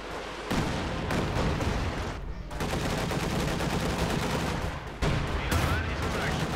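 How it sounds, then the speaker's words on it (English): Katyusha rocket artillery fires in the Company of Heroes 2 strategy game as dense, loud volleys of rapid bursts and booms, broken by brief gaps and overlapping with battle noise. "Katusha firing."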